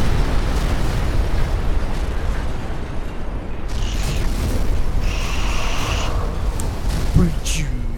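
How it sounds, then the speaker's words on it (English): A loud, rumbling explosion fills the scene in the video game Sniper Elite 3, with sustained blast noise and voices talking over it. "explosion."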